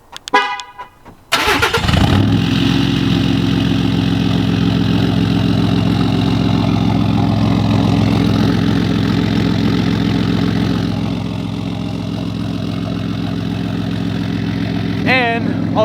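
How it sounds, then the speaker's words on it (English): A 2019 Ford F-150 with a 3.0 Powerstroke diesel, deleted and tuned, on a 4-inch straight pipe, cold-starts on a mild morning: a brief crank, then a loud, steady rumbling idle that settles slightly quieter and carries on alone. "So let's go ahead and start her up."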